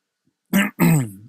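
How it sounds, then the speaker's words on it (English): Two quick, rough throat-clearing bursts close to the mic after a moment of silence. "let me clear my throat again there"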